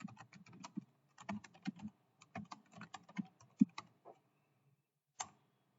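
Someone types on a computer keyboard close by, tapping out quick bursts of clicks with short pauses between them, then a final lone keystroke after a quiet gap.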